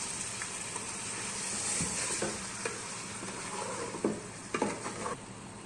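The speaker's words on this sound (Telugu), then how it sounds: "చికెన్ పీసులు వేసిన తర్వాత అంతా ఒకసారి మిక్స్ చేసుకోవాలి." Chicken pieces for machboos rice being stirred in hot oil, with a continuous sizzle under close scraping and a few clinks of the spoon against the pan near the end.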